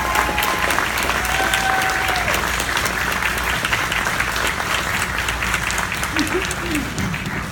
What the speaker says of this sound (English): Would everyone stand up and join me in a round of applause for the staff?